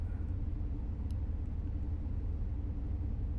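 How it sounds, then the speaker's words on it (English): Steady road traffic on US 160 near Wolf Creek Summit in Colorado, a continuous low rumble of passing cars and engines, fairly loud and even throughout, with no talking. "But there's a lot of traffic."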